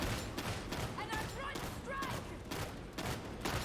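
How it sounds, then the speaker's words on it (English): Shotgun blasts in a first-person video game, repeated heavy booming shots in quick succession over a busy background, with a voice talking faintly at moments. "Firing manically down this sluice here."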